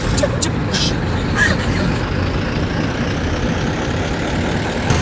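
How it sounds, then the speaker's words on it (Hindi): A car engine runs at a steady idle: an unbroken low rumble that holds for the whole stretch, fairly loud and close, with faint higher noises drifting over it. "बेटा गाड़ी चला"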